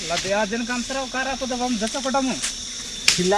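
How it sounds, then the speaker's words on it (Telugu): High, steady chirping of various insects in a dense forest runs throughout, partly masked by a person talking over it. "రకరకాల పురుగుల సౌండ్లు వినిపిస్తున్నాయి"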